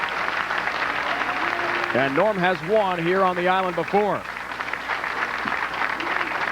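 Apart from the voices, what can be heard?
crowd cheering at PBA bowling tournament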